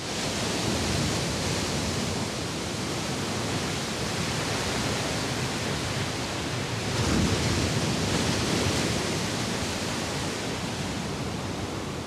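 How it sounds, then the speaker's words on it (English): Ocean waves roll in and break against the shore on Oahu, a steady, dense roar of surf with a slight swell in the middle, continuous and without voices. "the swell is free to grow into impressive rollers that then break against the shore"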